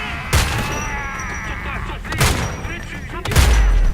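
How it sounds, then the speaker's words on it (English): Gunfire in the shooter game Homefront: The Revolution comes in three sharp, heavy bursts spaced about a second apart, with booming low thumps and a quiet voice speaking between them. "now we'll get into the mode of shooting everything and killing everything"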